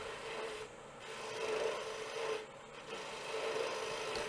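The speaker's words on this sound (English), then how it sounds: "I can make a planing cut with the bevel support of the wing" A woodturning gouge, using the bevel support of its wing, makes a planing cut on spinning wood while turning a small finial, giving a continuous close rasping, scraping hiss with slight dips in intensity.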